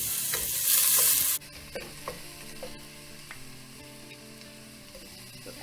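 White onion and shallot hit a hot pan with a loud burst of sizzling, then settle into a steady, softer frying hiss with occasional stirring clicks and scrapes.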